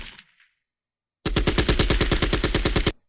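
Library recording of an M16 rifle firing on full automatic: one loud, rapid, even burst of about fifteen sharp shots lasting roughly 1.7 seconds, close and dry, after a brief faint sound and a pause of silence.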